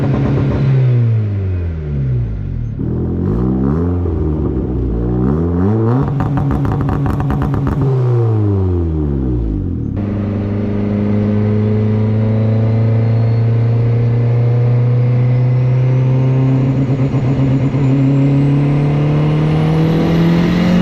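A cheap turbocharged Honda Civic engine with anti-lag revs hard and loud, rising and falling through several sweeps with crackling pops, then settles into a long sustained climb in pitch.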